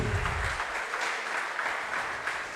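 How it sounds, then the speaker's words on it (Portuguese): A church congregation applauds during a worship and praise service. The clapping is moderate in volume, even and sustained, with a brief low voice at the very start. "Você pode aplaudir o nome dele por causa disso?"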